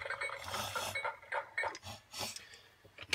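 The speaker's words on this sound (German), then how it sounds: "Oder Gleise, die klappern" Irregular metallic clattering and rattling from a Brio Magic Tunnel toy, like a train's wheels knocking over old rails, with scraping textures and uneven bursts close by.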